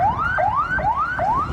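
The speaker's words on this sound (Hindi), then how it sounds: "पूरे इलाके में सायरन की आवाज गूंजने लगी" A loud, rising electronic ambulance siren wail repeating in quick sweeps, each climbing then dropping abruptly, steady and close with no voices.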